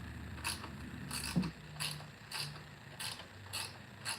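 Ratchet wrench cranking a stubborn bolt loose on a Toro TimeMaster lawn mower, repeated clicking pawl strokes in a steady rhythm, close and clear with no talking.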